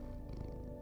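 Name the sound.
cat purring when petted in video game Loopmancer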